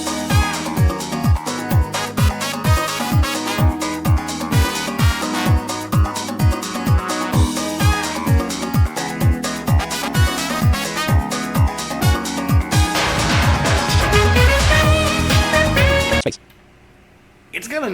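A track from the video game Persona 4 plays: a groovy beat with punchy repeating bass drum hits and layered synths, building toward a fuller section before cutting off abruptly near the end.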